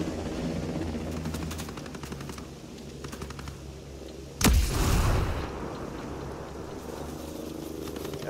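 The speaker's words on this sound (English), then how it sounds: "Helicopter incoming!" Rapid, chopping helicopter rotor thumps persist throughout, broken midway by a loud explosive boom amid gunfire in the video game Ghost Recon Breakpoint.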